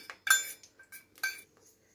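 A pan is set down on a stove before frying beef, giving a few sharp metallic clanks and clinks in quick succession, close and fairly quiet, with no talk.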